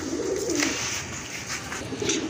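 A male King pigeon coos close by, a few soft low rolling coos repeating in a steady rhythm with no talk.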